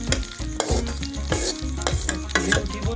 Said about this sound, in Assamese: এতিয়া আপোনাৰ এই কাজুকেইটা অকণমান ফুলি উঠিব